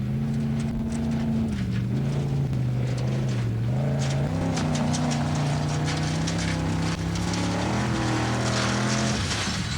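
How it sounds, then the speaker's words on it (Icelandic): A loud off-road vehicle engine roars steadily on a hill climb course in Egilsstaðir, Iceland, its pitch rising and falling as it labors under load, straining up a steep slope. "Hlustum á vélina"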